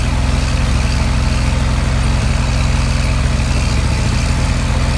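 A 1980 John Deere 4840 tractor engine runs steadily during corn planting, a loud, deep, continuous diesel drone with a constant low rumble and no voices over it.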